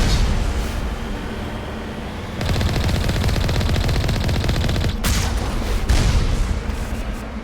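Rapid automatic gunfire in Mass Effect is aimed at a turret, a dense rattling stream of shots that starts after a brief lull and continues loudly with booming impacts, without talk.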